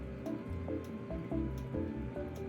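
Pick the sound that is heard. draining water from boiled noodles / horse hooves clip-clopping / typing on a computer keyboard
draining water from boiled noodles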